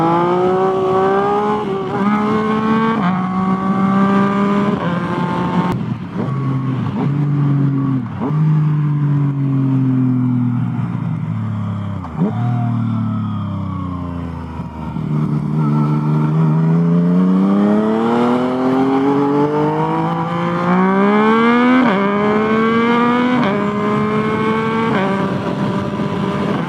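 A Yamaha FZ-09 motorcycle being ridden, its engine close and loud throughout, pitch climbing and dropping in repeated sweeps as it revs and shifts, with no talking.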